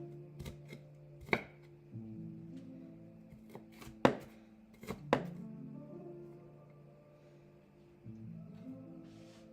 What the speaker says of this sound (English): I'm just going to dice it out. Like half of a, well, that whole russet potato.